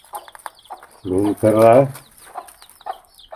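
A hen clucks in a short, close burst of two loud calls while people talk quietly nearby, with faint bird chirps behind.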